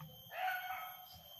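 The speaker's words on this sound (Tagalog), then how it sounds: "May aso ha, may aso." A single dog barks once from a short distance outdoors, a brief yelping bark that fades quickly into quiet background.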